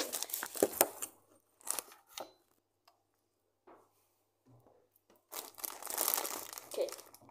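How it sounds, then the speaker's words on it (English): A packet of crisps is grabbed and crinkled up close in bursts of sharp plastic rustling, with quiet pauses between, ending in a longer crinkling stretch. "I'm just going to probably grab a packet of crisps"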